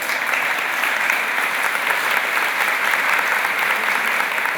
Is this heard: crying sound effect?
no